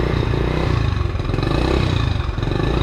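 A 125cc Honda CT70 minibike engine runs steadily and loudly at close range on a no-prep dirt track, a dense, continuous buzzing drone with slight rises in revs and no talk over it.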